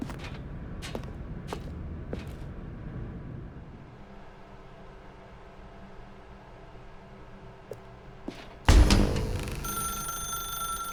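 A telephone rings in The Stanley Parable video game, a series of sharp bell bursts at the start, then a quiet hum before a loud noisy surge near the end.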